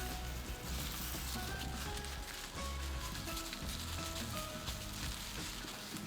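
Curry leaves and mint frying dry in a pan for a Tamil Nadu style chicken dish, a steady, soft, close crackling sizzle throughout with no talking.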